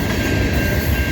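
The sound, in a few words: Norfolk Southern freight train passing, railfanning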